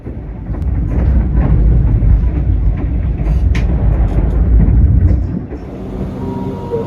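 Imperial extra passenger train on the Jakarta to Jogja run, a steady loud rumble of wheels and carriage noise close by, continuous throughout with a slight drop near the end.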